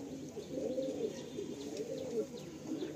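A fresh white male pigeon with blue bars coos in soft, repeated, throaty rolls close by, with faint chirps in the background.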